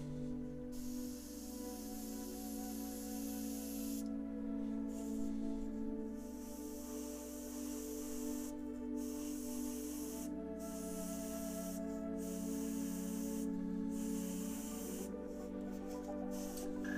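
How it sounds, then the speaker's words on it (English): An airbrush with a .02 needle sprays paint on a model M4A3E8 Sherman tank with gas cans, a steady close hiss broken by brief pauses, over a low hum. "I've still got my .02 brush, or needle in there, so it'll be a finer spray"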